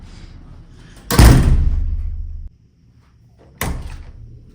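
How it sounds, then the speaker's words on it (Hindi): An indoor house door swung shut twice, each time a loud close thud with a rattling rumble that lingers about a second, followed by a quieter second closing a few seconds later. "ये देखिए मैं ना दरवाज़ा बंद कर दूँगी"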